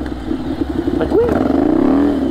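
A motorcycle engine revs up and down during practice riding for a licence test, the engine note rising and sweeping in pitch under a steady mid-range drone, fairly close and loud, with a voice briefly heard over it.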